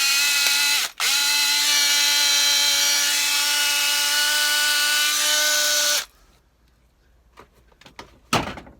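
A newly repaired cordless drill runs at a steady high whine for about six seconds, pausing briefly near the start, then stops and leaves a few quiet clicks and handling knocks.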